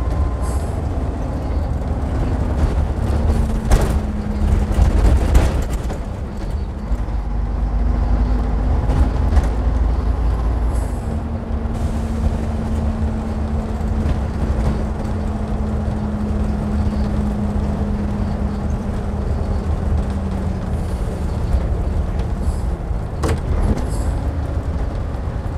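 A Leyland National bus driving on the road, its engine droning steadily with a low sustained tone and rumble, a gear change whine shifting pitch, continuous and close throughout.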